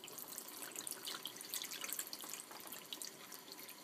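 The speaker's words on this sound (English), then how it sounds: "Just simply pour this in there." Film developer chemical poured into a Jobo processing drum on a CPE-2 processor, a faint steady trickle and splash of liquid with small dripping sounds, close and quiet with no talk.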